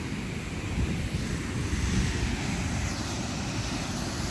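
River water running over smooth rocks near a waterfall in North Cascades National Park, a steady broadband rushing wash with gusts of wind noise, continuous and fairly loud with no voices.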